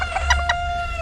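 At an exotic bird park in Puyo, Ecuador, a large Japanese rooster crows close by in one strained, drawn-out call with a couple of brief throaty pulses.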